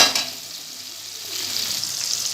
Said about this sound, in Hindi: व्यूवर्स, ये देखिए हमारे ये फ्राई हो रहे हैं।